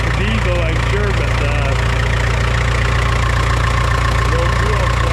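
A Super W6TA diesel engine idles steadily on gas after a cold start, a close, continuous low throbbing rumble with an even knocking pulse and no break.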